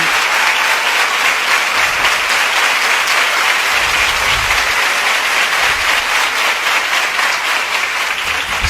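A large crowd at a Swaminarayan religious gathering gives a long, loud round of applause, dense, steady clapping filling the hall from start to finish with no speech over it.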